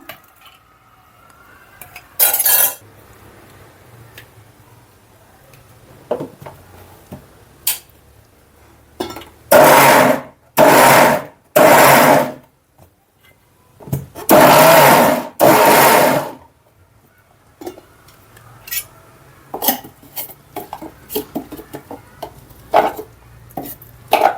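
Mixer grinder blending spinach with boiled moong dal in short on-off pulses, several loud whirring bursts of a second or two separated by quiet gaps, with lid and jar clatter between.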